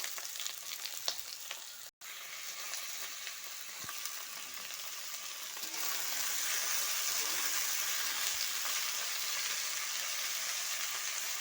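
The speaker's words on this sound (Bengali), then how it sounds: "তেল গরম হয়ে গেছে, এবার আলু দিয়ে দেব।" Potatoes for aloo bhujia frying in hot oil, a fine crackling sizzle that swells louder and denser midway after a short break, close and continuous with no talk.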